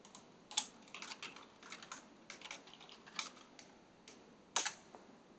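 Quiet, close typing on a computer keyboard as a password is entered, a quick irregular run of soft key clicks with a couple of sharper taps, no voices.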